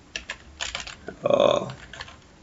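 Computer keyboard keys click in short bursts, a few quick taps, a pause, then more, close and moderately loud, with a voice talking in the middle while someone works in CorelDraw.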